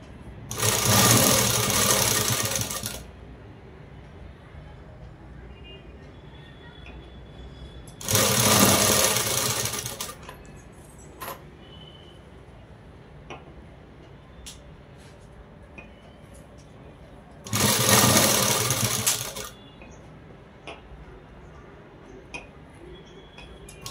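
A sewing machine stitches piping cord into fabric for a jacket, running in three loud bursts of about three seconds each separated by quieter gaps with faint handling sounds.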